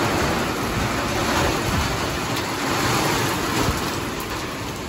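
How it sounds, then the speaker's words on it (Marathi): Strong wind and heavy rain blowing together as a loud, dense, constant roar and rush close by, steady throughout with no voices. "भयानक वारा पण आहे, पाऊस पण सोबतच होतो"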